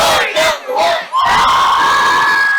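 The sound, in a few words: crowd cheering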